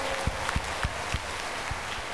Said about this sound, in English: A big clap offering to